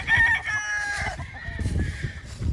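A brown red gamefowl rooster crows once with a loud, close, drawn-out call, followed by low clucking and faint farmyard noise.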